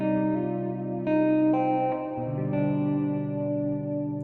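Music passed through the Valhalla Vintage reverb plugin: sustained layered synth chords with a lush, washy tail and chorus-like shimmer, changing notes every second or so, with a low note entering midway, steady and fairly quiet with no voices.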